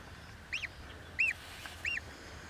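A pet goose honks three times at even intervals, each a short nasal call, fairly close against a quiet outdoor background.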